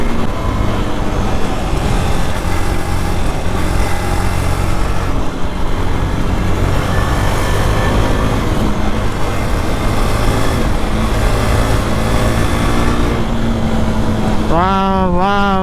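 A KTM RC 390 Moto GP Edition motorcycle rides through a forest area, its engine droning steadily under constant wind rush, then rising in pitch in a quick revving climb at the end.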